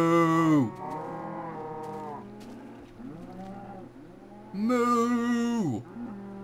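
Cows moo in the Minecraft video game, several long, loud, drawn-out calls that overlap and trail off, with quieter moos between two strong ones, and no talking.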